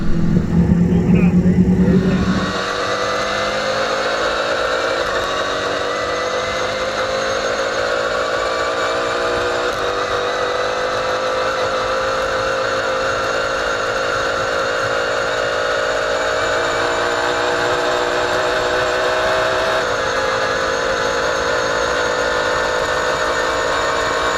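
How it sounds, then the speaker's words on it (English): Fastest piston-powered car speeding down a track, its engine starting in a loud low rumble and then settling into a sustained high whine whose harmonics slowly rise and fall, steady and prominent for over twenty seconds. "It's a special opportunity to see the fastest piston-powered machine on the ground in action."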